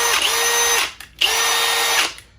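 A Milwaukee power drill revs loudly in two bursts of just under a second each, spinning up with a steady high whine and then dropping off, with a short gap between the runs.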